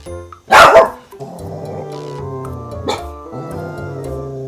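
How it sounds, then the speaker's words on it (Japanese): A Pomeranian-Corgi mix barks once, sharply and loudly, indoors in the morning, then a quieter murmuring follows with a brief second yip. "なんで急に吠えたん？"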